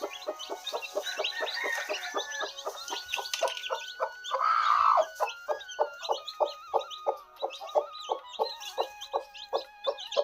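A free-range village hen clucks close by in a steady run of short, rhythmic clucks, with one louder squawk midway and no voices.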